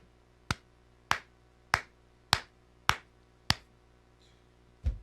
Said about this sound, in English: You get the slow clap right there